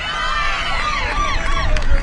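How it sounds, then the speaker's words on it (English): A crowd cheers and shouts for the Australian team after a wicket falls at the Sri Lanka vs Australia Women's T20 World Cup Cricket for the Blind match, a steady babble of voices that swells slightly near the end. "The Australians, they'll be cheering the team on"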